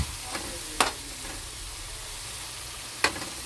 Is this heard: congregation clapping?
no